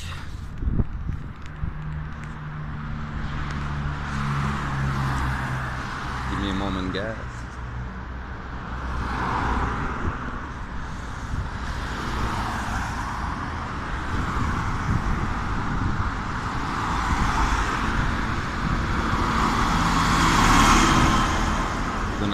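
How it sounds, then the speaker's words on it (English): Steady road traffic rumble from passing cars and vehicles runs throughout, moderately loud and continuous, with someone talking over it. "Oh, I hate it when it's traffic."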